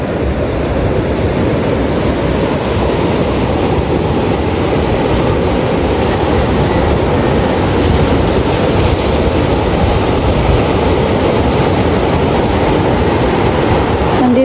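Heavy sea waves roar continuously along a Philippine fishing coast too rough for boats to go out, a loud, unbroken wash of surf mixed with strong wind buffeting the microphone.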